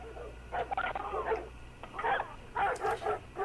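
Dogs bark in short, irregular bursts of several yelps and woofs, fairly faint and distant over a low steady hum, with no talking.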